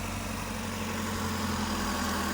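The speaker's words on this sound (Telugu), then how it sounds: "ఒక సింగిల్ సెల్ఫ్లో స్టార్ట్ అయింది వెహికల్." A 2014 Maruti Eeco eight-seater petrol van idles just after starting, a low, steady, quiet engine hum with even rumble throughout and no voices.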